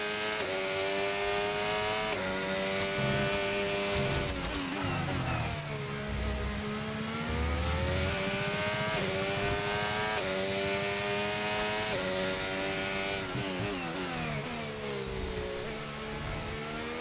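Race car engine in the F1 25 video game, revving hard through gear changes with rising and falling pitch sweeps, a loud continuous drone with brief tyre squeal as the car brakes and accelerates through a chicane.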